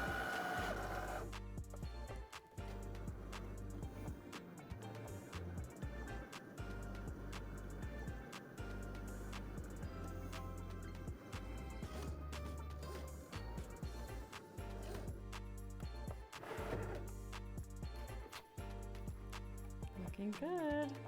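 A Cricut cutting machine fitted with a rotary blade cuts a linen tablecloth, whirring mechanically with motor pulses and carriage movements that shift and stop through the pass, recorded fairly close.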